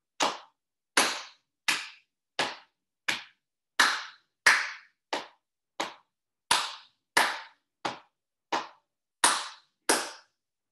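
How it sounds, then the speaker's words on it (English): Sixteen sharp hand claps ring out one at a time in a steady, evenly spaced rhythm for a hand jive dance, each crisp and close with clean silence between. "and then I do two claps."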